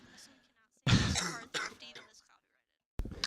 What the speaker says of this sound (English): I had to cough a little bit.